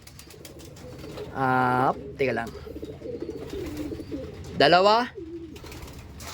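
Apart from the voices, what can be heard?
racing pigeons cooing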